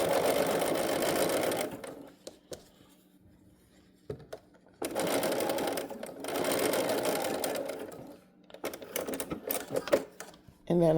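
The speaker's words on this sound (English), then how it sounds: "So I'm stitching the top fabric and the seam allowance together." Sewing machine stitching top fabric and seam allowance together runs in steady buzzing bursts, close and fairly quiet, stopping and restarting several times while a person talks between runs.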